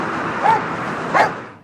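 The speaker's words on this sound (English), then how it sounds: "when they hear the dog bark and know that the dog is there with you" A police K9 dog gives two short barks from inside a patrol car during a traffic stop, with a steady background hum between them.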